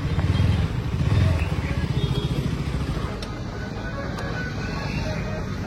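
A motorcycle engine idles and rumbles close by as it is parked at a temple, loud at first then settling into a steady low drone.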